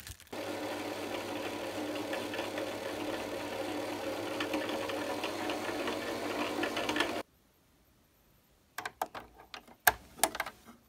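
A sewing machine stitches velcro onto a car floor mat with synthetic thread, running loud and continuous for about seven seconds, then stopping into near silence before a few louder mechanical clunks and taps follow.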